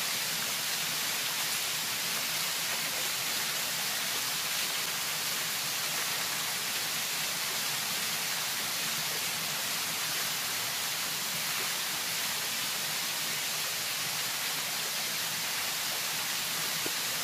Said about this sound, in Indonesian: Luar biasa air terjunnya, bagus sekali.